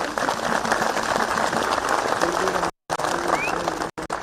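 A large crowd at an outdoor political rally in Himachal claps loudly and continuously in a dense, crackling burst of applause, cut off by brief gaps near the end.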